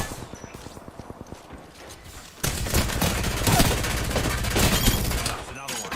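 Video game gunfire starts as sparse regular shots and then turns into a dense, continuous barrage of rapid fire that stays loud to the end.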